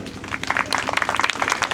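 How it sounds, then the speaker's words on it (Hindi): An audience at a Brahmin community gathering claps loudly, producing dense, steady applause that builds through the moment. "खूब बजाइए ताली"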